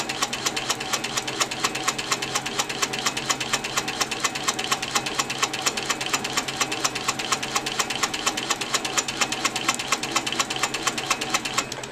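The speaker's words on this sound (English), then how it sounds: "So what I'm going to do is I'm going to keep stitching down here and go into the next one" A sewing machine stitching during free motion quilting, its needle hammering in a fast, even rhythm that runs steadily throughout, close and fairly loud with no talk.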